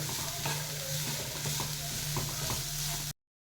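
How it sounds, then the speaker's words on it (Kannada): Small black beans frying in oil in a pan, a steady close sizzle with scattered stirring scrapes and clinks throughout, no voices. "ಬೀನ್ಸ್ ಹಾಕ್ತಿದ್ದೇನೆ. ಇದು ಹೀಗೆ ಆಯಿಲಲ್ಲಿ ಸ್ವಲ್ಪ ಹೊತ್ತು ಫ್ರೈ ಆಗಲಿ."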